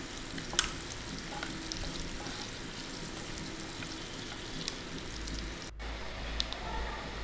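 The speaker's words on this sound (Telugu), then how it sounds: "ఓన్లీ ఎగ్ బట్ వేసుకొని ఫ్రై చేసుకోవాలి ఎర్రగా అయ్యేంత వరకు మంచిగా ఫ్రై చేసుకోవాలి" Egg whites frying in oil in a pan, a steady close crackling sizzle that runs throughout, with a few sharper pops along the way.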